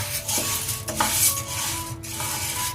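Horse gram dry roasting in a pan, with a steady soft rustle and sizzle of dry grains stirred against metal, punctuated by light scraping clinks, close and moderately quiet.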